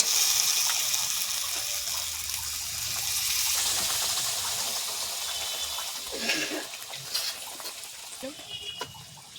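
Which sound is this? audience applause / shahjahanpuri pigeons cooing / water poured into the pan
water poured into the pan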